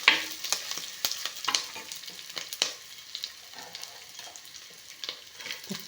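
Sliced onions fry in oil in a pan for a fish curry, with a soft steady sizzle broken by sharp crackles and the scrape of stirring, close and fairly quiet with no talk.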